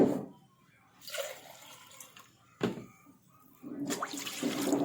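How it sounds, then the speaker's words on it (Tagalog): Half a glass of water is poured into a cooking pot in a kitchen, giving short splashing, trickling bursts separated by quiet gaps, close and fairly soft. "Maglagay ng 1 kalahating baso ng tubig."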